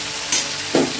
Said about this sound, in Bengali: ব্রকলিটাকেও একসঙ্গে দিয়ে দেবো, আলুর সঙ্গে ভাজা ভাজা করে দেবো